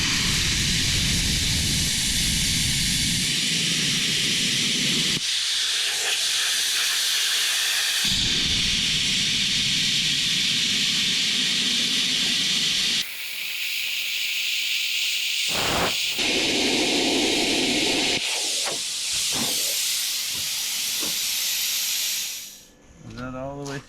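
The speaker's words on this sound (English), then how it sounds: "let's see how well the plasma works on 1/4 inch rusty steel" A cheap plasma cutter slicing through quarter-inch rusty steel in Ontario, Canada, producing a loud continuous hissing roar that stops and restarts in several long bursts, ending with a brief dip.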